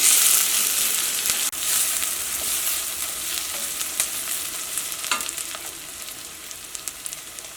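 Sliced onions and curry leaves sauté in a pan for beef curry, giving a continuous close sizzle with occasional clacks of spatula stirring. One sharp knock sounds early on, and the sizzle eases slightly toward the end. No voices are heard.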